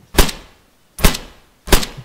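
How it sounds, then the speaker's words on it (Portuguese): Three sharp gunshots ring out in Arma 3 in the Altis wasteland, evenly spaced, loud and close, each one followed by a short echoing tail. "Tomou um tiro."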